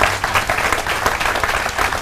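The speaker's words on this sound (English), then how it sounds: "Thank you for that huge round of applause." A big round of audience applause at a business opportunity talk, loud, dense clapping from a crowd filling the whole brief moment without any speech.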